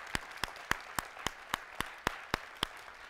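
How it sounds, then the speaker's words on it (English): Evenly spaced single claps from a church congregation, about a dozen sharp beats in steady rhythm, moderately close with little else around them. "Can I just get everybody to start clapping? Just clap"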